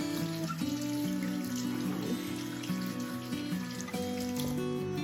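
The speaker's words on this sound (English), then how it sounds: "first thing I'm going to do is wash my hands really well" A bathroom tap runs while hands are washed beneath it, a soft, quiet trickle and splash heard under steady tonal background music.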